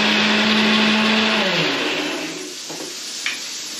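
A blender grinding onion into paste, loud and close with a steady motor whine that winds down and stops partway through, followed by a faint clatter.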